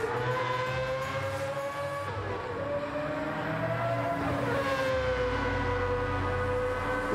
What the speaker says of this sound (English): Just absolutely love the sound of that Mazda.